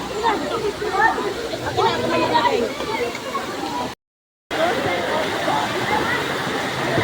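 Cold spring water splashes and rushes steadily at Bato Spring in San Pablo, Laguna, with people chattering nearby throughout and a brief dropout midway.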